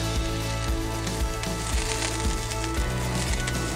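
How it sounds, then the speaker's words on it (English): An oiled Tuscan grill sizzles steadily inside a wood-fired oven, a loud continuous hiss and crackle with a rhythmic low thumping beneath it. "I want to hear that sizzle"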